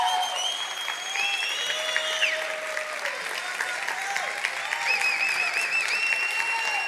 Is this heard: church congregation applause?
yes